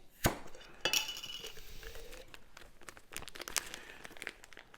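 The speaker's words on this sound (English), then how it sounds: "Let me break the seal." A vacuum-sealed Mylar bag holding about 14 eggs is opened, giving a sharp crinkling pop followed by softer rustles and crackles of the foil bag, close and fairly quiet.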